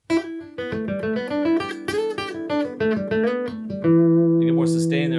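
Acoustic piezo tone from a PRS Hollowbody II guitar, notes ringing out in a melodic run, bright and close, ending on a long sustained chord with a slight hum of amplification.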